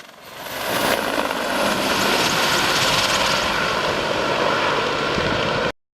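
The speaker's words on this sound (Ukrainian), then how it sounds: "Надійне прикриття морського десанту з повітря здійснювали два українських бомбардувальника, а також вертольоти армійської та морської авіації" Military helicopters and Ukrainian bomber aircraft fly cover over a naval landing during the Sea Breeze 2016 exercise, a loud sustained engine and rotor roar that swells in within a second, holds steady, then cuts off abruptly, with no talking.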